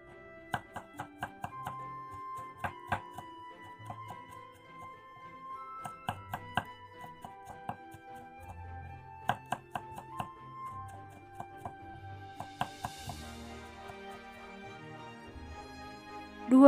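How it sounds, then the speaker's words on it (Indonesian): Shallots are thinly sliced with a knife on a board, making soft, irregular tapping cuts spread through the clip beneath quiet background music. "Ini bawang merahnya diiris tipis semuanya sampai habis."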